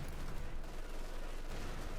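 In Company of Heroes 2, mortar and gun fire make a steady, heavy rumble of booming blasts and crackling shots that runs without a break through the short clip.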